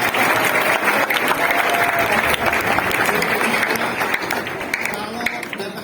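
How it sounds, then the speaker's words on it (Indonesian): A packed church congregation at an Easter youth revival service in Batam claps steadily and loudly throughout, a dense continuous applause with scattered voices mixed in. "boleh sekali kita kasih tepuk tangan buat Tuhan"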